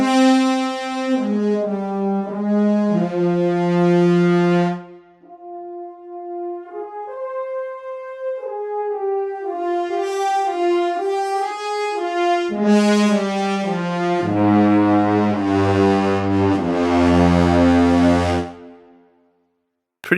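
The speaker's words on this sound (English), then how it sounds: "Let's start with horns, true legato patch" Sampled brass horns from Soundiron Hyperion Brass Elements play a true legato line, smooth connected notes rising and falling in phrases, then a fuller, brassy passage with bite before fading; no speech.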